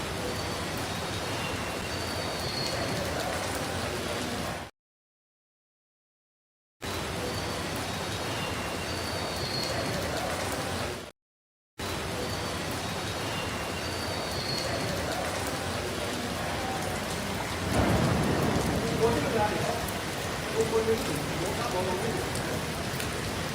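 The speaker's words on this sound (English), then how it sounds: "Heavy rain." Heavy rain pours steadily in New York City, a dense continuous hiss broken by two brief dropouts, with a louder gush and spatter near the end.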